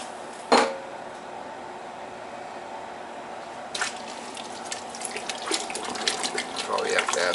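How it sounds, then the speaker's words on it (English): Water pours into a pot of hearty beef vegetable stew with cauliflower, onions and white hominy, a steady splashing flow after a sharp clatter, with a person talking nearby. "Probably have to add some more water to that."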